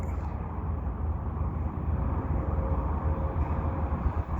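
A CN westbound double-stack freight train, led by a GE locomotive, rolls past at Dorval with a steady, heavy low-end rumble and continuous wheel noise, fairly close and constant throughout.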